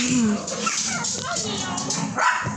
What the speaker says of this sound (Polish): moje pieski szczekają jak nie wiem